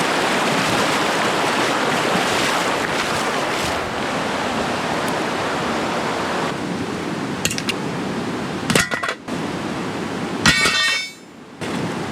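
River flowing in gold prospecting country, a continuous broad rushing wash of water heard nearby, with a few brief knocks and clatters toward the end.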